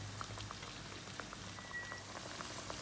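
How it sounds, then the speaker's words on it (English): Bajia batter frying in hot oil, a faint, steady bubbling crackle with soft scattered pops, heard alone without talk. "Now we see that the oil is bubbling when the bajia is put in, which means it is hot enough."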